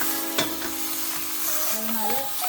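Pre-cooked raw jackfruit from a tin going into a hot curry pan, a loud, dense sizzle close up with a few sharp scrapes and clinks.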